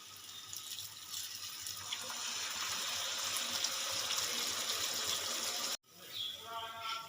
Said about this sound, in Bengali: এবার আমি দিয়ে দেব অল্প পরিমাণে জল